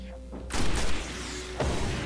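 Destiny gunfire comes as two heavy, booming bursts about a second apart, each sustained with a rumbling tail, after a quieter hum.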